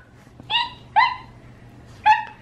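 A puppy gives three short, high yips or barks spaced about half a second apart, close and clear over a low background hum.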